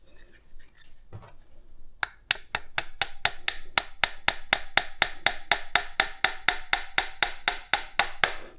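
Regular metallic hammer strikes drive a part into a Brose e-bike motor during a full service, about two per second, sharp and close, after a few scattered taps at the start.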